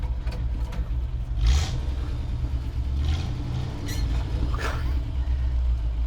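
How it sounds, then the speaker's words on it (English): A 1968 Chevrolet C50 ramp truck rumbles with a deep, steady engine drone as the clutch is dumped for a burnout attempt, with a brief louder surge and faint hiss bursts over the continuous low growl. "Let's see if it will do a burnout. And dump the clutch."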